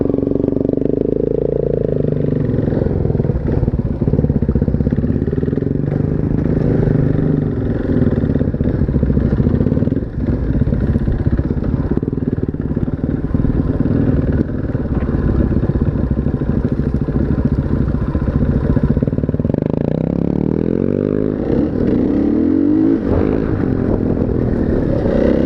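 Motorcycles ride laps on a wooded trail, their engines droning steadily and loud throughout with shifting revs and clattering, briefly easing near the end.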